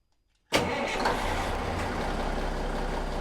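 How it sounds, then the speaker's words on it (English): A boat's inboard Cummins 855 diesel engine starts abruptly after a moment of silence, then runs at a steady, loud rumbling idle nearby. "we know what the motor sounds like when it's healthy"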